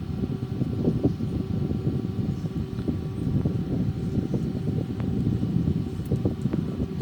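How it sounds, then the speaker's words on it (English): An Airbus A340-313X auxiliary power unit spools up in a flight simulator, giving a steady, dense low mechanical rumble that holds constant throughout with no break. "Flap open and we can start initiate the APU starter."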